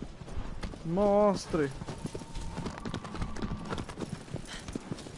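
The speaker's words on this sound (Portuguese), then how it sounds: "Corra como o vento, cavalo querido." Horse hooves clip-clop in a steady galloping rhythm in the Shadow of the Colossus remake, with a man's excited speech and a brief whinny-like vocal over the hoofbeats.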